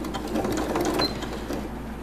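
A sewing machine stitches a small bag in a fast, steady run of close, even mechanical ticks with no talk over it.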